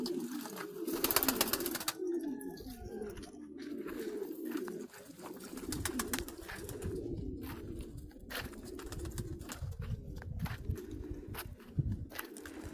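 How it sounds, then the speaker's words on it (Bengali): Pigeons coo continuously in Saudi Arabia's desert, with the soft, low murmur of several birds close by, mixed with faint shuffling and scratching that may come from their feet. No one speaks. "কবুতর কিন্তু একটি পছন্দনীয় পাখি, যা অনেকেই পছন্দ করেন"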